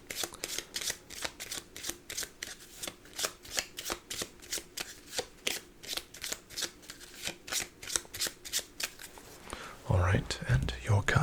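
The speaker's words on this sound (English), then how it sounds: "Perhaps a bit of an extra shuffle to reset that luck." Playing cards are riffled and bridged in rapid rhythmic bursts, close and crisp, ending with a short shuffle and handling noise.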